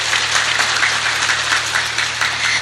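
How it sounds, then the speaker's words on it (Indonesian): An audience at an Islamic religious gathering breaks into steady, dense applause, many hands clapping loudly and continuously without a break. "Tepuk tangan dulu dong."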